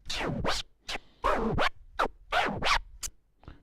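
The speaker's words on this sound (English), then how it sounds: "another variation is the fast Autobahn scratch." A fast Autobahn scratch on a turntable record: quick back-and-forth zipping strokes in a tight rhythmic run of about nine sounds, loud and close, alone without talk.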